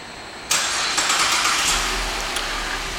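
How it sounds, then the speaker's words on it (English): A 2010 GMC Acadia SUV starts by remote start: a sudden loud crank and catch after a short quiet moment, then the engine settles into a steady close idle. "Has also remote start."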